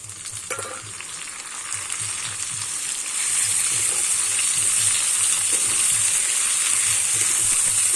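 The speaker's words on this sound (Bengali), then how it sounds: "এবার বেটে রাখা ঘেটকুলের পাতাটা আমি দিয়ে দেবো" Ground ghetkol leaf paste added to a pan with small shrimp, a quiet low sizzle that swells into a loud, steady hiss of frying as it is stirred, no talking.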